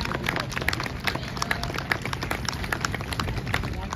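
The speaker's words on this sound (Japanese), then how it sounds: "学部の皆さんにもう一度大きな拍手をお送りください" Dense, steady applause from an outdoor audience for the Yatsushiro Shirayuri Gakuen High School brass band at an event at Hanabata Plaza in Kumamoto, a continuous wash of many hands clapping.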